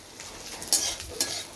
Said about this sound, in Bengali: এখানে ভেন্ডি ভাজা হচ্ছে